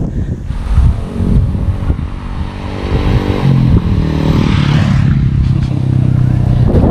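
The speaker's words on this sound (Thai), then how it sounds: "เดี๋ยวให้น้องลองรถนะครับเขาให้ลองขี่นะครับ" A child rides a Kawasaki KSR motorcycle, its small engine droning steadily with rising revs and clattering, mixed with heavy wind buffeting the microphone throughout.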